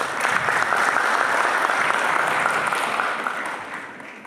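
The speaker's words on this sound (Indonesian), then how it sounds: "Mungkin bisa aplaus untuk" Audience applause at a volunteer declaration event in Semarang, a steady dense clapping crowd that holds for about three seconds and then gradually fades out, with no talk over it.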